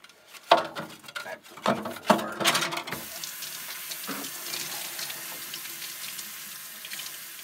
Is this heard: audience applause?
no